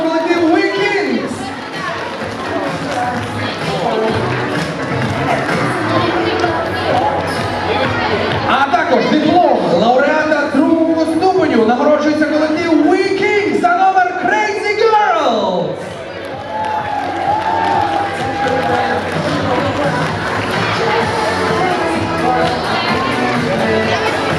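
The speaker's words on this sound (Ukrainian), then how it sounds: "це заслуговує окремих оплесків! Давайте, давайте, давайте, підтримуємо!" An audience at the WeKings awards ceremony cheers and whoops at length, a loud dense crowd roar with scattered shouts and a brief dip midway, mixed with chatter and a voice speaking over it.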